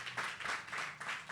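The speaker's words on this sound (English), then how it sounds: "Big round of applause for all of them." An audience at an Austin consumer packaged goods community event applauds the event partners, a steady wash of clapping at moderate level, with a faint voice murmuring underneath.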